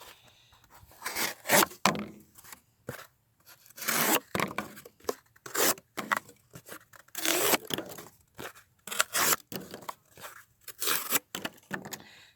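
A CRKT Montosa flat-ground knife slicing through material in repeated bursts of tearing and crunching, each stroke loud and close with short pauses between, no talk.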